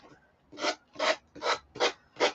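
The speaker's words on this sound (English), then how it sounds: "we're going to go ahead and sand this off and see where we have to fix any boo-boos." Sandpaper rasping over a small gator craft piece, in five steady back-and-forth strokes, each a close, loud scratchy burst with short quiet gaps between. No talking.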